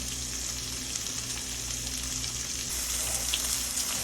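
Thin pork chops sizzle and crackle steadily on a grill, a continuous close frying hiss with scattered pops and no voices.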